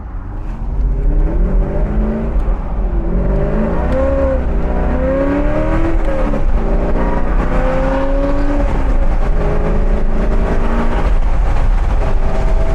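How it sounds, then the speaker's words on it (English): A V8 car with a manual transmission, likely a Corvette, driving with its engine droning loudly from inside, pitch rising and falling through gear changes over a steady low rumble. "Get you a manual transmission with a V8. It is a blast."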